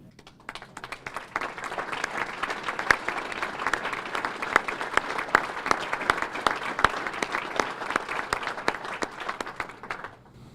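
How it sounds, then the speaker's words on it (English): Sustained applause from a dinner audience at an annual chamber of commerce banquet, honoring board members; dense, steady clapping that fills the room for about ten seconds before tapering. "If you would stand for a round of applause,"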